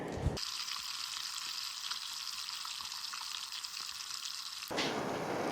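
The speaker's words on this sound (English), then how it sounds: "Let's get this bacon cooking again" Bacon sizzling in a pan on a tiny stove, a loud, dense, continuous frying hiss close up, with a sharp change at the start and a louder rush near the end.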